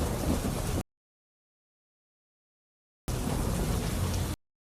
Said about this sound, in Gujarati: તાપીના ગ્રામ્ય પંથકમાં ધોધમાર વરસાદ થઈ રહ્યો છે।